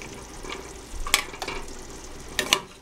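Spicy pasta mixture stirred in a pot on the stove, low sizzle and simmer with a few sharp spoon clinks and scrapes against the pot, close and brief, no talk.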